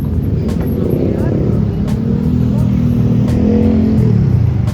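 Dense nighttime street traffic with steady engine drone from cars and motorcycles, a constant loud rumble with passing vehicles rising and fading, heard under a voice at intervals.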